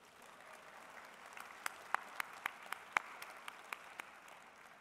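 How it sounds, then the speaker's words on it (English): At a general session of the Iowa FFA State Leadership Conference, an audience offers faint, distant applause, with a handful of sharper individual claps standing out over a quiet, hall-like background. "I think that deserves some applause"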